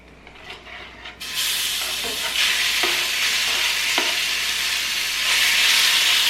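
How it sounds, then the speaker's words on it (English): Pepper-seasoned chicken pieces hit a hot cast iron pan and burst into a loud, steady sizzle that starts suddenly after a quiet moment, with a few faint clicks of stirring beneath the frying hiss. "that cast iron is hot, so as soon as I throw it on, it's gonna sizzle"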